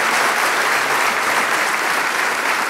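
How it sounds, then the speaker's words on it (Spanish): A church congregation claps loudly for the Lord during a Spanish-language worship service, a dense, steady wash of many hands lasting the whole moment without letup. "dale un fuerte, fuerte aplauso al Señor"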